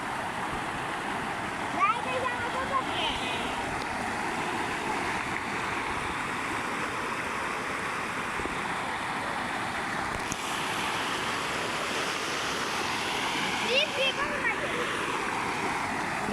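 Strong floodwater current rushes through a breached crop field, a loud, continuous broadband roar that holds steady throughout, with faint indistinct voices now and then.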